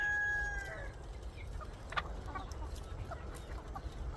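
On a free-range village chicken farm, a rooster's crow trails off, followed by scattered clucks and soft chicken calls over a low outdoor background.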